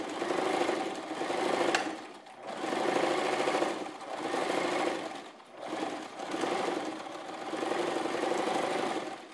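A sewing machine stitches a child's bucket hat in fast, steady runs, stopping briefly between each burst of stitching. The whirring is close and fairly loud, with no talking.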